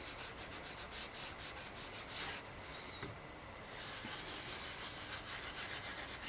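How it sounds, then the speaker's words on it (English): Leather on a 1962 Mercier Mixte vintage bicycle is rubbed down to distress it, making a close, steady scratchy rasping with repeated back-and-forth strokes and a brief pause near the middle, and no voices. "I'm going to be distressing the leather at the same time."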